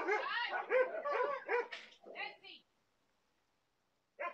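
Several dogs at a dog boarding kennel bark in a rapid, loud burst of overlapping yips and barks, then fall silent briefly before one more short bark breaks in at the end.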